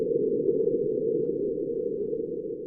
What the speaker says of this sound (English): This is the sound of Mars's moving surface.